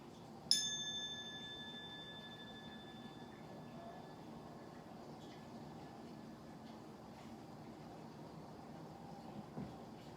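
A single bell struck once during a guided meditation ritual, a bright ringing tone that decays slowly over several seconds against a quiet, faintly noisy room.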